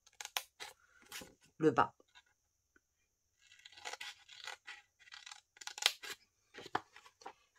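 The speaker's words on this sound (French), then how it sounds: "on va couper jusqu'à l'intersection." Scissors cutting paper along grid lines to make an accordion pocket: several short, crisp snipping bursts, close and fairly quiet, separated by pauses, with a few spoken words in between.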